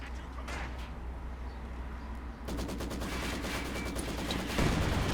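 Heavy mortar strike shelling in Company of Heroes 2, a continuous battlefield din of rapid firing and blasts that intensifies midway, with a voice talking over the combat.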